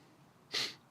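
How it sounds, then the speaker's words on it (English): One short, sharp sneeze bursts out at close range against a quiet room, brief and breathy, with no talking around it. "Yeah, I gotta sneeze."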